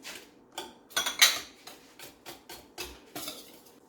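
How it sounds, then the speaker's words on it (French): Banana pancake batter being whisked in a bowl, a series of sharp clinking strokes in an uneven rhythm with short gaps between, close and alone. "Continue à fouetter correctement."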